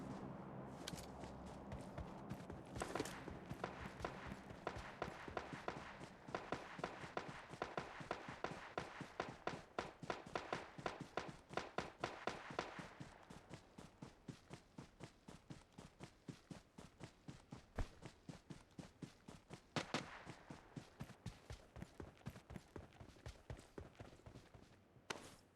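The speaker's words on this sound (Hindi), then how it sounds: "बिल्डिंग में आते ही एक पैरों की आवाज़ आने लगती है सामने" Footsteps echo inside a building in PUBG, a rapid, regular run of sharp taps that carries on throughout. The steps sound louder at first, then lighter and slightly more distant, with occasional louder clicks mixed in.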